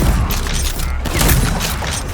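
Heavy shotgun blasts in Rage 2 boom loud and close in a steady run of punchy shots over dense combat noise.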